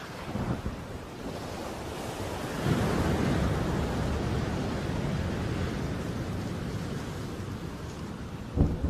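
A storm builds out at sea, with wind buffeting and surf crashing in a continuous roar and low thunder-like rumbles swelling midway, loud and without voices.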